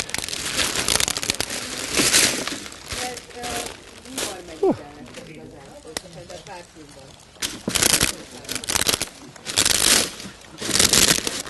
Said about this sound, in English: So sharp that when you break it, it actually cuts its own way out of the plastic bag.